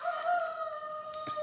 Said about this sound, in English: Sheep, roosters, turkeys, they're noisy too.